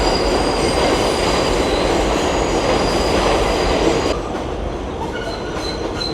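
Elevated trains roll past on both sides in Long Island City, Queens, a dense loud roar with thin metallic squealing tones, easing slightly as one train moves off near the end.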